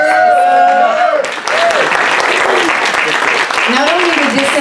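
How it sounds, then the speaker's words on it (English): Applause for Esther at a renters' reception in Monterey, California: a moderately loud, steady round of clapping from a modest crowd, with a voice speaking over the start and scattered voices through it. "let's give Esther another round of applause"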